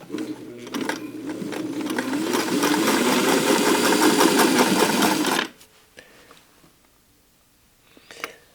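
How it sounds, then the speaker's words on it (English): A sewing machine stitching a jeans seam whirs in a fast, steady run for about five seconds, then stops, leaving quiet handling sounds and a soft click near the end. "I do want to take a little bit of a bigger stitch, so I adjusted my stitch length"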